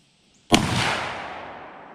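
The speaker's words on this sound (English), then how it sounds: "Yeah, aim for it and shoot." A single loud gunshot cracks sharply close by, then booms and decays into a long fading echo over about a second and a half, with no talking.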